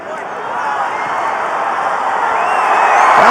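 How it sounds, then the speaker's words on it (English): A stadium crowd roars and cheers through a Hong Kong China versus China rugby sevens match, a dense, loud, swelling noise that builds toward the end as a try is scored. "listen to that crowd as Hong Kong China gets their first try"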